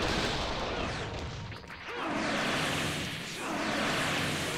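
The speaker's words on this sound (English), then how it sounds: "Explosions!" Rumbling blasts and booming explosions in the video game Naruto Battle Climax roll through, loud and dense, with a short dip before the din swells again.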